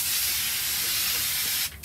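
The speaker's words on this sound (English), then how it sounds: "just spray it all" Cleaner is sprayed over a rusted, abandoned 1974 Ford F250 Custom with a 390 V8, a loud, close, continuous hiss that breaks off briefly near the end.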